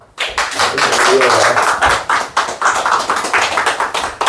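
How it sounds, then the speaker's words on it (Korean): A small church congregation claps to welcome a speaker, a sharp close burst that starts abruptly and continues as uneven, fairly loud clapping with some thumps and faint voices mixed in. "나오실 때 박수로 환영해 주시기 바랍니다"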